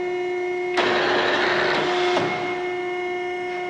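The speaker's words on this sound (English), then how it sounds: "Now the top clamp is coming down." A hydraulic press top clamp descends on a dry run with no part loaded, giving a sudden loud hiss and clunk over a steady machine hum, then a second thump as it settles.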